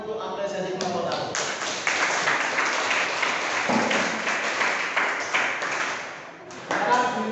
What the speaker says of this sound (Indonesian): kita tepuk tangan untuk apresiasi kelompok tadi